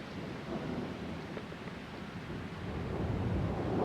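A thunderstorm rolls on with a continuous low rumble of thunder and steady rain, a broad dense wash that swells slightly louder toward the end, with no voices.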